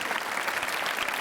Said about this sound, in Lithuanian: Santūrus plojimai.